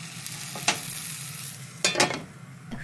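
Thick slices of white eggplant fry in a pan with a steady low sizzle, broken by a few sharper crackles and a utensil clink. No one speaks.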